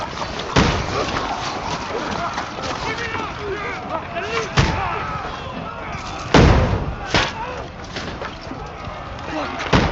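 Soldiers firing during a siege battle in Kingdom Come Deliverance II, heavy booming impacts and crashes recurring over a constant din of battle noise, with shouting voices throughout.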